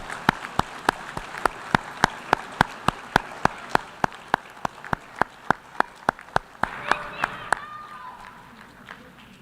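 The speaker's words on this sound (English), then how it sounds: "Let's give them a round of applause" An audience at a World Football Day event applauds the children standing up. The clapping is sustained and moderately loud, with sharp, sparse claps on top, and a voice speaks over it near the end.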